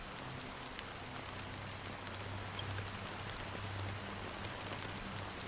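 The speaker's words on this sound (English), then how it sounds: "Amidst the fine drizzle of black rain" Steady rain falls through a scene in Honkai: Star Rail, a fine drizzle of black rain heard as an even, soft hiss of drops throughout, with no voices over it.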